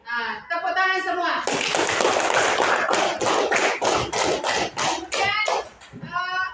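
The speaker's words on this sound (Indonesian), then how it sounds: "tepuk tangan semua." Children in a classroom clap their hands together in a burst of quick, fairly loud claps, with young voices speaking before and after the clapping.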